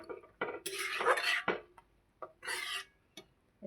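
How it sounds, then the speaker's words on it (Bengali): A spoon stirs and scrapes through banana flower curry in a metal pot after salt goes in, giving loud rasping strokes in bursts with clinking pauses between. "তো এবার নুনটা দিয়ে এবার নেড়ে চেড়ে নেবো।"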